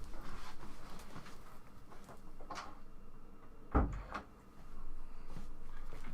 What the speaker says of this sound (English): Just wanted to close the door.